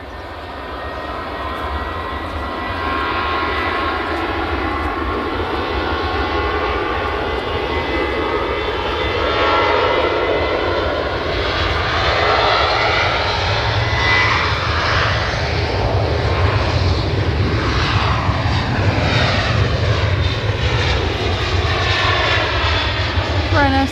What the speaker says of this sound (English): Ryanair 737 on the way to Oslo